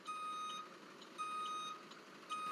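Steady electronic reversing beeps from a truck in the Rigs of Rods driving game, three evenly spaced tones repeating over a faint engine hum, fairly quiet and with no voices.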